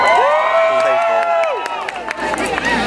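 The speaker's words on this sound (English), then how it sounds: "Applause." A crowd at a drag show during Pride Acadiana 2022 cheers, whoops and applauds, with loud sustained shouting voices over clapping throughout.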